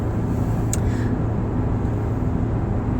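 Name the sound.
car driving in traffic, heard from inside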